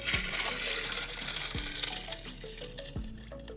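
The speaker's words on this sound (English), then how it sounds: "Let's add some fresh water on top of that." Fresh water is poured onto salt in a glass beaker with a steady, close splashing gush. Gurgling bubble plops and light glassy clinks run under the flow as it slowly eases off.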